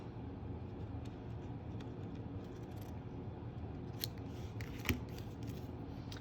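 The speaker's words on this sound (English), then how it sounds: "Take my scissors and trim a little." Quiet, close scissor snips cut through card, a few crisp clicks over a steady low hum of background noise.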